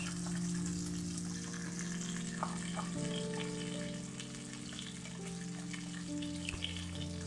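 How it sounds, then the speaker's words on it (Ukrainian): Fish fries in a hot pan with a steady, crackling sizzle and scattered small pops, moderately close and continuous with no voices over it. "Рибка у нас шкварчить."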